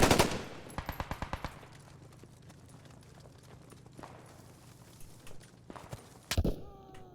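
Gunfire in the World War II shooter Post Scriptum: a sharp burst of rapid automatic shots, then scattered single shots and a loud close report near the end, with distant battle noise underneath.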